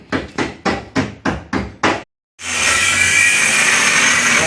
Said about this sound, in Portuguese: Martela pra dentro